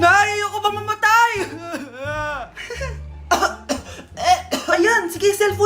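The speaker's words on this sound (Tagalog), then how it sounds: "umubo ka ba? May COVID ka na!" A person coughs a few times in a short comedy skit, short harsh bursts mixed in among loud, lively Filipino conversation.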